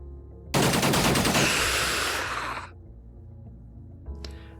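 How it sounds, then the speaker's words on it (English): Loud burst of automatic gunfire from the turn-based strategy game Xenonauts as a soldier shoots through the floor, a dense two-second volley that tails off, followed by a short sharp report near the end. "we shoot through the floor"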